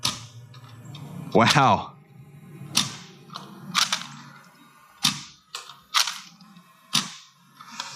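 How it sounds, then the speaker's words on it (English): A modified Nerf Quadrant blaster is primed and fired with Accustrike darts, giving a series of sharp clacks and snaps spaced about a second apart, close by, with a brief spoken exclamation. "Let's go ahead and prime and fire."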